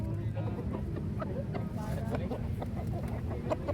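Bangkok chickens at a crowded chicken market in Makassar cluck repeatedly, close and dense, over a constant murmur of market crowd noise and indistinct voices.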